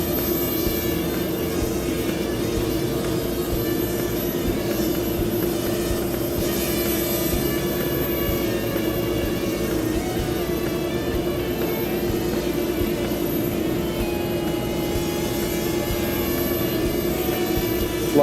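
A Hubsan X4 quadcopter drone flies around a room with a continuous high-pitched buzzing whine that holds steady and close throughout, with no talking.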